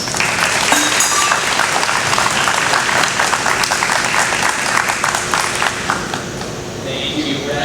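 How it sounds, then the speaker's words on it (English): An audience at a Wings of Hope gathering applauds Keith and Jennifer LaRoy and Andrew Hosford, a loud, steady burst of many hands clapping that tapers slightly toward the end, with faint voices underneath. "Would you give them a round of applause?"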